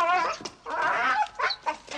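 A dog named as a good dog gives short whimpering, yelping sounds in quick bursts, close by with no talk over it, in a radio adventure drama set on a mysterious island.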